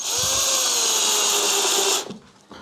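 A power drill whirs steadily as it drives screws into a wooden box holding a repotted Katsura bonsai, loud and close for about two seconds, then stops abruptly with faint handling noise after.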